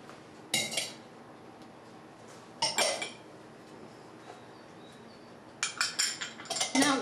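Breadcrumbs, paprika and dried parsley mixed in a bowl for schnitzel, heard as a few clinking, scraping bursts of utensil against dish separated by quiet gaps.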